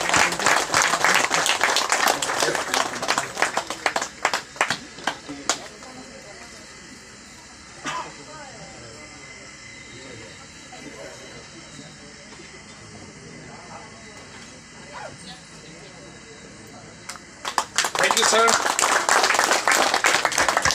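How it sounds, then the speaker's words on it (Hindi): An audience at a meeting breaks into loud, dense applause that fades to quieter scattered claps and room murmur, then surges back to full clapping near the end. "ताली बजाएंगे।"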